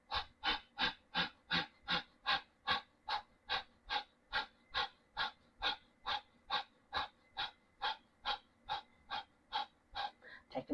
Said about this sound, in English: Begin exhaling.